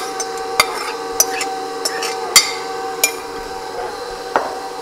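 Apples stirred into a flour mixture for a coffee cake, with sharp, spaced clinks of a utensil against a bowl over a soft continuous scraping background.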